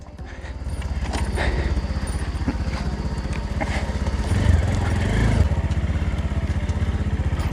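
A motorcycle riding over a rough, wild mountain road, its engine chugging loudly and steadily close up, with rattling and bumps throughout.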